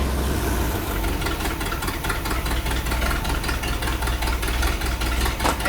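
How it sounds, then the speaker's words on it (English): An old car engine idling after sitting 40 years, steady rough, slightly knocking idle with a rapid regular pulse, close and continuous without talk. "Let's let it idle."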